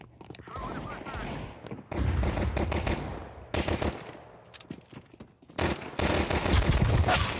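Bursts of rapid automatic gunfire in the shooter game Counter-Strike 2, several loud close volleys separated by short gaps, with rattling echoes and muffled voices underneath.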